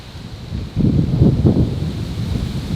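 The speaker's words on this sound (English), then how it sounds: "It just got really, really windy as well." Low, rumbling wind buffeting the microphone outdoors at Puckey's Reserve, rising abruptly and continuing as a steady roar with gusty swells, no voices.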